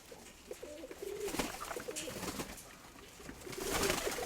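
Pigeons, likely domestic flying pigeons, coo in repeated low rolling phrases across the clip, moderately near, with some background noise and no talk.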